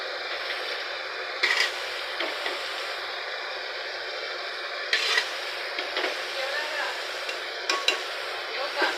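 Roasted moth beans (matki) are stirred into a simmering masala in a pan, giving a steady close scraping and sizzling texture with occasional louder spoon knocks and no talking.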